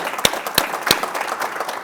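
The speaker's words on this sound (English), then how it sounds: "How about some applause one more time for Elizabeth" Audience applause at a business expo talk session, a few distinct sharp claps standing out over a thin background of scattered clapping, brief and fairly close.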